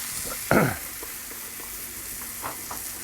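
Bone-in ribeye steaks hit a hot soapstone on a Kamado Joe Big Joe grill with one sharp sizzling burst, then a steady low frying hiss and faint clinks.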